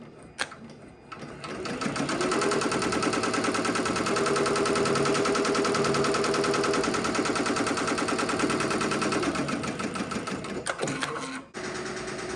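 An embroidery machine stitches an applique piece with a fast, steady mechanical whir that holds loud and even for about ten seconds, then slows and stops.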